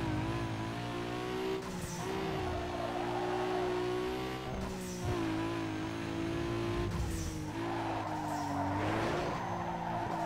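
A car drifting across dirt in Need for Speed Underground 2, a Nissan Skyline on a stock engine, with sustained engine drone, repeated tire skids and gear shifts, loud and continuous.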